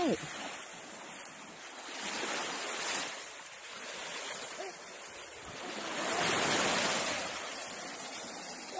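Sea waves at a beach in Thailand, two slow swells of surf that rise and fall over a constant wash of water and wind noise on the microphone.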